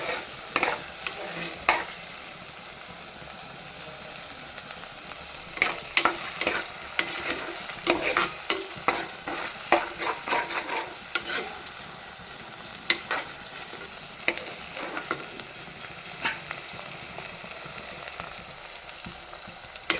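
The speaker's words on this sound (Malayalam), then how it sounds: "നമ്മൾ കുറച്ച് വേപ്പിലയും കൂടെ അതിനകത്തേക്ക് ഇട്ട് കൊടുക്കണം" Curry leaves crackle and sizzle in hot oil for a Kerala-style pearl spot fish curry, with frequent sharp pops and stirring scrapes scattered over a continuous faint frying hiss.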